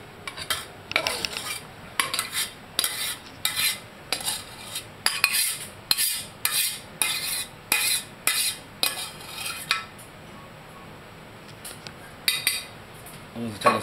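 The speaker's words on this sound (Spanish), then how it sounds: "Ahora que el quinoa ha absorbido el caldo, lo vamos a poner en una cacerola." Cooked quinoa is spooned into a pot: a quick run of about a dozen rhythmic metal scrapes and clinks of a utensil against cookware, close and distinct, with short pauses between strokes.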